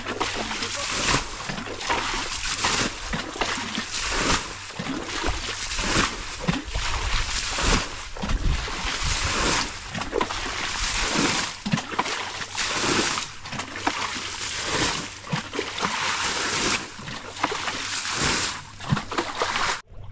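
Water splashing and sloshing as people bail a river by hand to drain it for catching fish, a continuous stream of irregular close splashes and scoops with occasional voices in the background.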